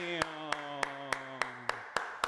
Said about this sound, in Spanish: ¡Un aplauso, Dios mío!